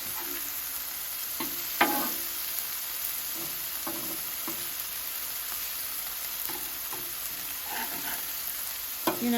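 A prime ribeye sizzles on a Blackstone flat-top griddle while being prepared for Philly cheesesteaks, a steady frying hiss broken by scraping, stirring spatula strokes and a few sharp clicks, close and moderately loud, with no voices.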